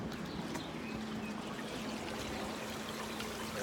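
A new sump pump pushes water out of a flooded basement with a few feet of water left, giving a steady, faint rushing and trickling flow with a low hum, continuous and without talk.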